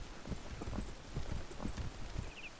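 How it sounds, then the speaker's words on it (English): Horse hooves clip-clop steadily as a rider gallops away in the video game Fire Emblem Path of Radiance, a brisk rhythmic patter at moderate volume over a faint music bed, with no talking. "she's riding away on her horse"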